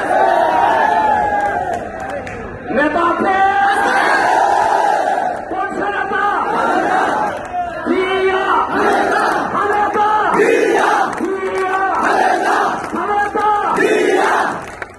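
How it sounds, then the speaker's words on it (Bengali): A large crowd at a BNP rally in Chandpur marking Zia's martyrdom anniversary roars political slogans in loud, rhythmic call-and-response bursts, with a leading voice shouting between the massed replies. "আমার সাথে স্লোগান ধরেন"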